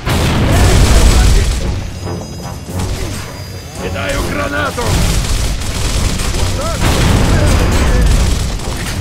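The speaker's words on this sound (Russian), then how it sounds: "Кидаю гранату!" A grenade blast in Gears of War: loud, booming explosive bursts amid sustained combat noise, with gunfire-like crackle and a second heavy impact later, voices talking over the din.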